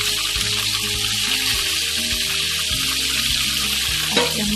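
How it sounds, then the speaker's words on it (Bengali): Potatoes sizzle in hot oil in a pan as a loud, steady hiss, with soft low clunks and background kitchen noise beneath it. "আলুগুলোকে লাল লাল করে ভেজে নেব।"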